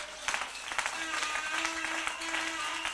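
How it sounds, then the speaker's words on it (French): A church congregation in a tabernacle applauds during a sermon, a faint, distant patter of clapping with the room's hum under it. "Applaudissez pour la parole de Dieu."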